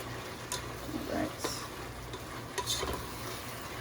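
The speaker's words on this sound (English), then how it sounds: "Be easier to use a spoon to stir around, but I'm just sticking my spatula." Faint scraping and tapping of a spatula stirring food in a pot over medium heat, soft irregular clicks over a low sizzle, with a person talking quietly.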